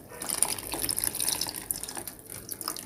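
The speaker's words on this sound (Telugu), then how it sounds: "నేను వెంటనే నానబెట్టుకున్నది ఈ పులుసు ఇందులో వేసేస్తున్నాను" Soaked tamarind juice is poured into a simmering curry of small fish: a continuous, close splashing and trickling of liquid that bubbles unevenly throughout.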